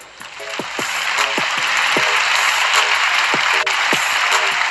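A church congregation claps in a steady broadband wash of applause, with a few sharper rhythmic strikes standing out against dense continuous clapping that fills the room.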